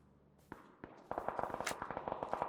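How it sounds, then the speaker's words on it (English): Grenade blast in PUBG during a pro esports match, a couple of sharp bangs followed by a rapid crackling burst of repeated pops, with no talk over it. "Grenade coming in."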